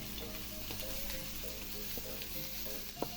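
Ginger sizzles and fries in oil left over from frying pomfret, a steady close crackle with occasional small pops and stirring clinks.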